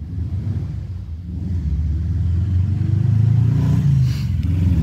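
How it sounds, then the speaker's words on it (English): A loud car rumbles past nearby, its deep engine growl rising and swelling to a peak before easing slightly. "That's a loud car! Loud car."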